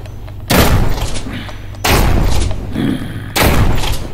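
Shotgun blasts in the VR shooter game Propagation: three loud, booming shots spaced roughly 1.5 seconds apart, each a sharp broadband burst with a short decaying tail over a low background hum.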